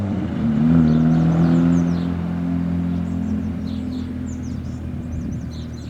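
A classic Mini drives off on collection day, its engine rumbling loudly at first then steadily receding into the distance, with faint birdsong above.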